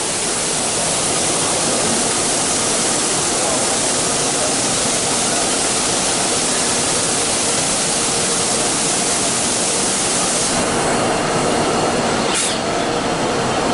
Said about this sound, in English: at the end of the grind, it goes down and does a water blast